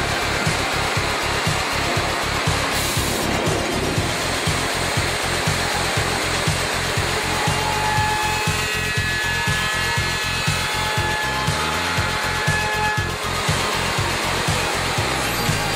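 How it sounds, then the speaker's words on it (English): A 4-axis CNC woodworking saw cuts timber joints, a loud continuous machine whine with a steady, rapid pulsing drone and grinding cutting noise, heard close and alone. "The 4-axis saw can make any imaginable taper or compound cut required for jack"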